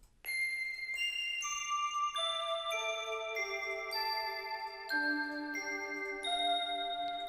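Roland D-50 synthesizer playing its Fantasia preset, a bright bell-like tone picking out a slow melodic line of sustained, shimmering notes, each new note ringing over the fading tail of the last, clean and alone with no voice.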